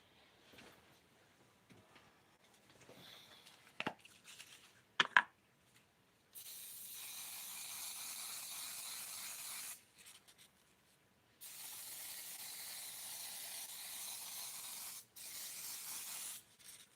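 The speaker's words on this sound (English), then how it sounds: "I need some holding spray." A can of holding hairspray sprays in two long, steady hissing bursts, each lasting several seconds with a short pause between, close to the microphone and with no talking.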